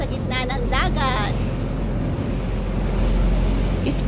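Steady rumble of a ferry crossing the open sea with waves and wind buffeting the microphone throughout, while someone speaks briefly near the start.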